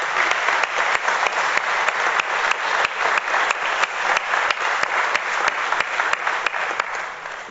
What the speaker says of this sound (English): Round of applause for those veterans.